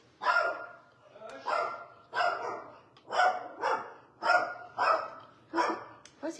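A dog barks indoors in a steady series of about eight sharp, moderately loud barks, evenly spaced with short pauses between them.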